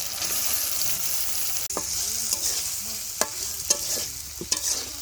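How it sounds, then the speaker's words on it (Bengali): Puti fish cooking down with spices in a pan in Bangladeshi village style, a steady loud sizzle with scraping stirs and a few sharp clinks from a spatula against the pan, no voices. "পুঁটি মাছটাকেও খুব ভালোভাবে কষিয়ে নিব।"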